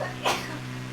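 A single short, sharp sneeze bursts out over steady low engine hum from a flight simulator session, close and fairly loud.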